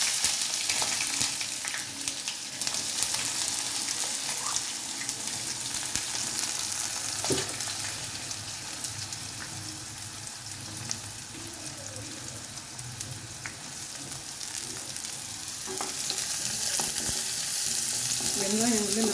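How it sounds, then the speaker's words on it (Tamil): Onions sautéing in a pan of oil with cinnamon, cloves and fennel seed, a steady close sizzle and crackle running throughout with occasional stirring scrapes, no talking. "வெங்காயம் வந்து நல்லா கோல்டன் ப்ரௌன் ஆகிற வரைக்கும் நல்லா வதக்கி எடுத்துக்கணும்."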